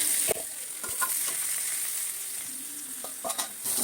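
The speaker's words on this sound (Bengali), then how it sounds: "ইঁচড়গুলো ভাজা হয়ে গেছে লাল লাল করে, এরকম লাল লাল করে ভেজে নিয়ে আসছি" Pieces of green jackfruit fry in oil until reddish, giving a steady, close, fairly quiet sizzle with a few stirring clicks and scrapes near the start and end.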